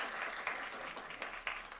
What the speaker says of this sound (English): You all give Logan a round of applause